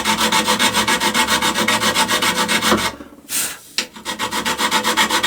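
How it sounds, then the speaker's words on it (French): A hand file rasps against a workpiece while shaping a thermal solar panel valve, with loud, close, rhythmic back-and-forth strokes and a brief pause before the filing resumes. "j'ai mis des coups de lime"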